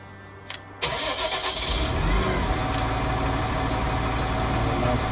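A tractor engine used for windrowing grass cranks and catches after a short pause, then settles into a continuous, loud idle that hums on to the end.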